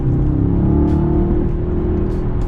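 Mercedes-AMG S63 E Performance accelerating, a loud close engine rising in pitch as the throttle opens, heard from inside the car with no talk.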